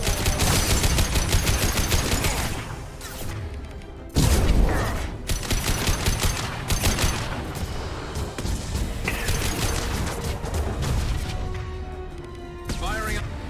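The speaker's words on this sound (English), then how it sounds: "Firing a high impact shot" Heavy gunfire from a high impact shot in the Mass Effect video game, dense bursts of shots and booms running throughout, loud and close, with voices talking over the combat.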